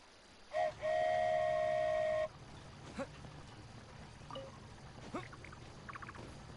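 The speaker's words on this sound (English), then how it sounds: "So this is what it feels like to ride a toy train." A toy train ride in the video game Genshin Impact gives a short whistle-like toot and then a sustained whistle tone lasting about a second and a half, followed by quieter rumbling and scattered clicks.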